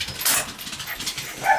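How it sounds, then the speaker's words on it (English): A neighbouring dog gives a couple of short, faint barks from next door, brief yips against a quiet background. "There's a dog next door."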